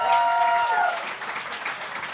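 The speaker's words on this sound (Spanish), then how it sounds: "Fuerte el aplauso" Audience applause at a comedy show, a burst of many hands clapping under a briefly heard voice, loud at first and then tapering off.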